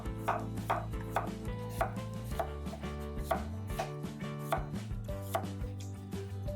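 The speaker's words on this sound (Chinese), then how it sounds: "我们把小黄瓜洗净，切掉头尾， 然后再切成圆圈圈片。" A knife slices a cucumber into rounds on a cutting board, giving a steady run of crisp, evenly spaced taps close up, with no talking.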